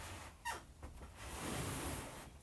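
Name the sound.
squeaky floor board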